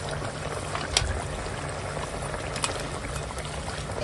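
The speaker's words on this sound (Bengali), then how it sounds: "এখন দিয়ে দেব এই ভেজে রাখা মাছ।" Fried fish goes into a simmering Bengali fish curry with kulekhara greens and vegetables, a steady bubbling, gurgling liquid sound with a couple of small splashes, close and moderately loud, with no talk.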